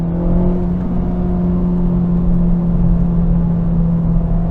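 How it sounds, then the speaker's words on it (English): An Acura Integra Type S pulls uphill in sixth gear on a steep grade, its engine a steady, loud droning hum with a constant low tone and no change in pitch, heard from inside the car. "I'm just going to put in the 6th gear and let's see if it pulls us up the hill"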